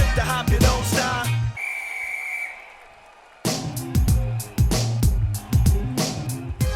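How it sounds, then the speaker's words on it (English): A referee-style whistle blast signals the start of a game, one steady shrill tone about a second long in a gap between thumping hip hop beats, clear and prominent. "on the sound of the whistle, let the games begin"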